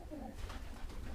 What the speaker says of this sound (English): Oh, pigeon just landed on my back.